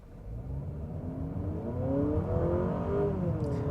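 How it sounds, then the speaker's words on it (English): A 2025 Honda Accord Touring hybrid engine accelerates with a steady, rising whir and drone that swells slightly in loudness, heard from inside the car with no talking. "I actually don't even mind the sound of the engine"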